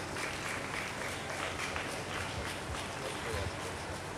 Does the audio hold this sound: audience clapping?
yes